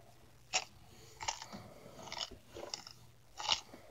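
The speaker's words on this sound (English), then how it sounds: "that's crunchy. That's bone." Bone being chewed and crunched, several sharp crisp crunches spaced irregularly over a few seconds, close and alone with no talking.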